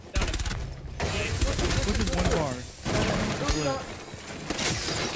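Video game gunfire fired through smoke crackles in dense, continuous volleys throughout, with voices talking over the shooting.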